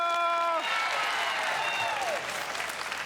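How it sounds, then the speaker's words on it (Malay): A studio audience on the game show RM 1,000,000 Money Drop bursts into loud, sustained applause as a musical sting fades, the clapping continuing steadily to the end. "kita berikan tepukan paling gemuruh untuk penonton-penonton di studio"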